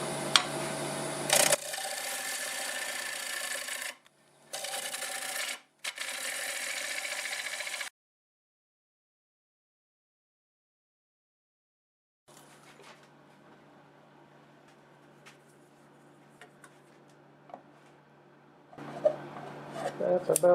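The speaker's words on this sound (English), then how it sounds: "Continue with the 5/8 swept back bowl gouge and remove most of what we have there." A 5/8-inch swept-back bowl gouge cuts a big walnut slab on a wood lathe turning at 350 RPM. Loud, close rasping cuts come in broken bursts, then a long silence, then a quieter steady whir with scraping near the end.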